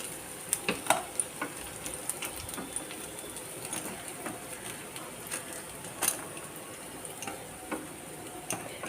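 Paneer pakoda frying in hot oil gives a steady, soft sizzle, with light ticking crackles and small clinks scattered throughout, heard close and alone.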